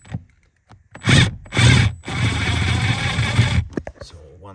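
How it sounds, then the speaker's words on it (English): Electric power tool backing out a battery hold-down bolt on a Mercedes-Benz W166 during battery replacement, with two loud buzzing whirs and a longer sustained run, followed by brief clicks. "I will use this electrical tool, which for me it will be much easier to do it"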